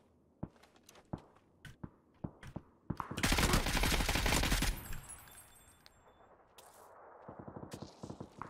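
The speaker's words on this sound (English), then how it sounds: "Did someone shoot M24 at me as well?" Gunfire in the PUBG battle royale video game on the snowy Vikendi map, with a dense burst of shots and a loud rattling volley midway, amid footsteps and scattered sharp single reports.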